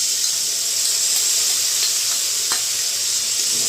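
Beaten sour yogurt poured into a pan of well-fried masala sizzles steadily with a bright, hissing crackle, a constant close frying sound with faint clicks and no voices.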